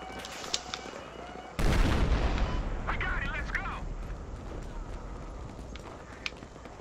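A heavy boom of tank artillery fire in the video game Battlefield Hardline bursts out loud, then decays into rumbling gunfire and game noise while a player talks.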